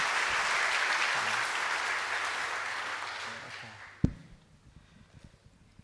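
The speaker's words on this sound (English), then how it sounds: "Please give him a big round of applause" Audience applause fills a keynote hall at Google I/O Extended Bangkok 2017, a dense, steady wash of clapping that stops abruptly with a sharp thump, leaving faint room noise.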